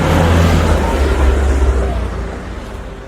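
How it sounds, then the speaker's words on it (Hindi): A car drives through a forest on quiet roads as rain ends, its engine a loud, close low rumble that holds steady and then gradually fades away. "एक बार फिर गाड़ी जंगलों को चीरती हुई घर की तरफ निकल पड़ी।"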